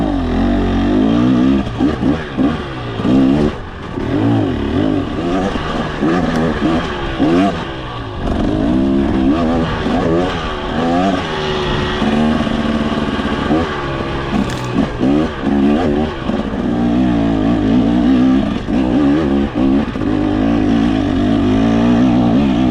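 A 2023 KTM 300XC dirt bike engine runs close by after restarting during a fuel tank run-dry test, a rough two-stroke drone rising and falling with repeated revs, no voices.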